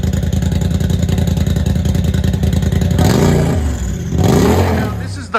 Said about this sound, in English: you can really hear the turbo with this one